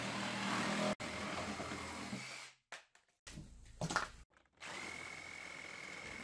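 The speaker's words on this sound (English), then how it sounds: "To get better access to the hardware, I cut off the outer lip of the flares with a sawzall." Reciprocating saw cutting the outer lip off a fender flare on a 1999 Jeep Wrangler Sport. A buzzing cut runs steadily, drops out into choppy short bursts, then resumes. It is fairly quiet and recorded alone.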